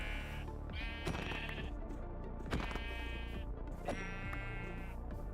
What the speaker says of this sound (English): maybe we do kill a couple sheep for some wool and some food